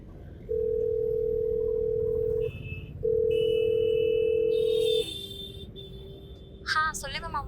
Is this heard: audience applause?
no